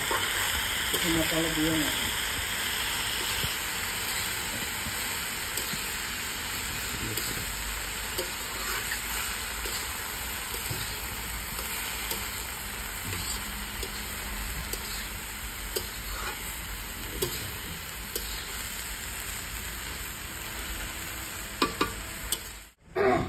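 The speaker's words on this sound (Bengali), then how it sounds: "বাঁধাকপিটা একটু নাড়তে হবে।" Cabbage being stirred and fried in a pan, a steady close sizzle and hiss with scraping stir strokes throughout, ending in a brief clatter.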